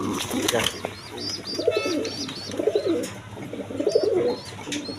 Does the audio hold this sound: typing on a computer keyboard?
no